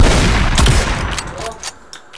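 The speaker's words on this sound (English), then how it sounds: "I can actually fire the shotgun very quickly" A shotgun in modded Minecraft fires in quick succession, loud blasts packed closely together at the start and thinning into scattered reports that trail off.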